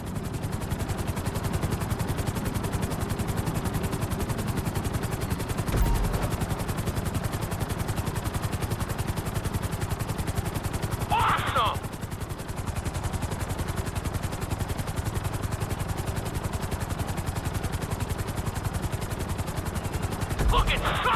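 Helicopter flying in the PS5 version of GTA 5, a loud steady rotor chop with rapid rhythmic beating throughout, plus a brief higher tone near the middle.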